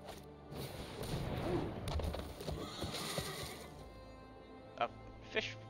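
A horse whinnies over clip-clopping hooves in the card game Magic: The Gathering Arena, followed by a couple of short, sharp clicks as things quiet down.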